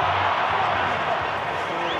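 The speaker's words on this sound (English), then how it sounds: "the crowd are really getting behind their team here. It's a fantastic atmosphere." Steady broadband crowd roar from a stadium rugby match between Western Force and Fiji Warriors, a continuous wash of cheering with no distinct breaks, loud and sustained throughout.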